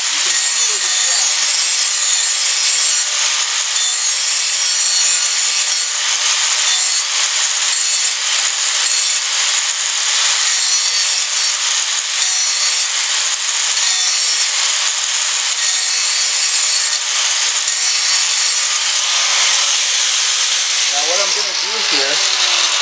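Steady, harsh high-pitched grinding of a power grinder sharpening a steel lawn mower blade, continuous and loud at close range for over twenty seconds, with a brief scraping change near the end.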